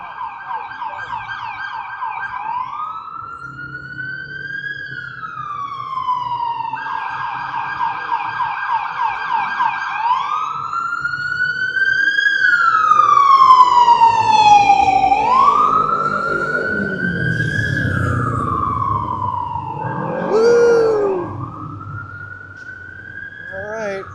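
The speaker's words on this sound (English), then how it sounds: "a little siren" A wailing emergency vehicle siren rises and falls in long sweeping tones, loud and close, shifting pitch as the vehicle passes on a Los Angeles street near Chinatown, with no talking.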